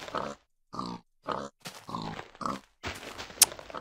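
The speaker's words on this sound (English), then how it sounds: "Kill this pig as well, because I don't see many of them." A pig in the Minecraft PC Gamer demo grunts in a series of short, close bursts with brief pauses between them, followed by clattering game noise toward the end.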